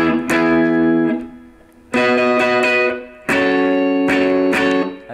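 Clean electric guitar strumming a chord progression, three separate chord phrases with ringing sustain and short pauses between them, close and clear with no talking.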